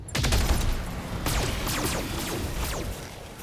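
Mech weapons firing in the BattleTech video game, a heavy salvo aimed at a Rifleman mech, with a string of loud, overlapping blasts and bursts that keep roaring steadily for several seconds.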